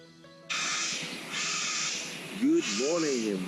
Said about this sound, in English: The birds are tweeting to welcome in the morning.